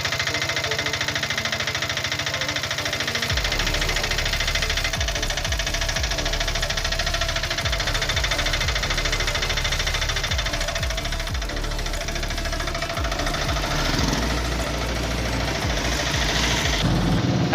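A 2013-model Bajaj RE diesel autorickshaw engine runs steadily and loudly close by, its knocking diesel idle continuous and unbroken for the whole stretch with no talk over it.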